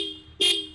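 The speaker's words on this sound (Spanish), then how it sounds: "Pero suena durísimo esa moto cuando uno lo oprime el claxon." A TVS Apache 160 4V motorcycle's dual horn gives one short, loud, bright blast over a steady tonal hum, sounding brassy and car-like.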